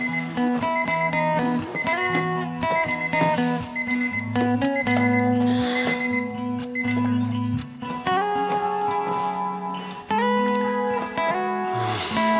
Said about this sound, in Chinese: 闹钟响这么久